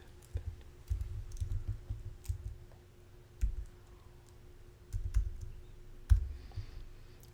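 Typing on a computer keyboard while entering text into an online form, with soft, irregular clicks and clustered keystroke bursts heard close up over a low steady hum.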